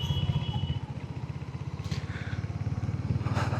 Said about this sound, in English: I have my stock exhaust back on the bike